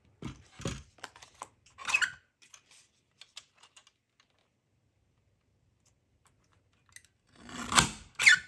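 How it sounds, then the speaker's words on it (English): A clear window sheet for a handmade shaker card being trimmed, heard as a few quiet cutting snips and clicks with a pause, then a louder burst of trimming at the end. "then I'll trim off the other 2 sides"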